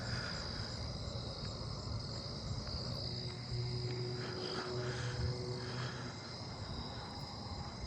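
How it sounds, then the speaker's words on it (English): Lesser anglewing katydids calling at night in a neighbourhood, brief ticking calls scattered within a steady chorus of crickets and other insects, no talking. "lesser anglewings."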